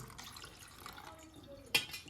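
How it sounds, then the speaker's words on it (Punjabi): Water is poured into a vessel while a homemade summer drink is being prepared: a faint, quiet trickle with drips, then one sharp knock near the end. "ਇਹ ਤੋਂ ਬਾਅਦ ਇਹਦੇ ਵਿੱਚ ਪਾਉਣਾ ਪਾਣੀ"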